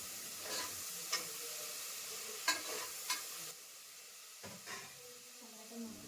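Chopped tomatoes fry in hot oil for coriander rice, a steady low sizzle broken by a few sharp scrapes of a spoon stirring through the pan, with no one talking.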